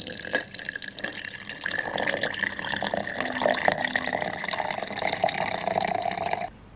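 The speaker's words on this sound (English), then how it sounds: "So now I'm going to pour the water. I'm going to pour it slowly." Water pours steadily in a gentle stream, a soft continuous splash close by, running for several seconds before stopping.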